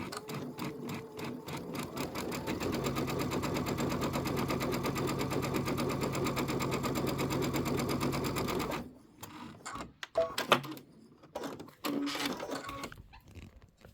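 A sewing machine stitches quilt border strips on a cutting table, running in a fast, steady rhythmic chatter for about nine seconds. It then stops, leaving scattered clicks and short handling noises with quiet gaps between them.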